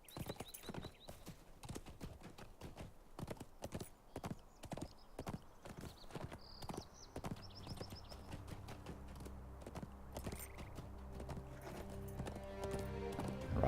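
Horse hoofbeats in The Lord of the Rings Online clip-clop in a steady riding rhythm, with a short whinny, while game music swells up beneath the hooves toward the end.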